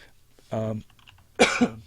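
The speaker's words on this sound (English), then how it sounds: "Don't hold that cough against me on audio." Two short, sharp coughs close to the microphone, separated by a brief pause.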